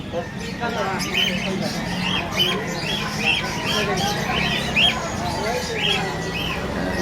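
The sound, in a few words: birds squawking at Bocaue pet market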